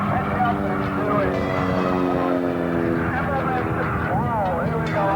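An aircraft engine roars continuously at an air show during an aerobatic roll, its pitch rising and falling while voices talk over it.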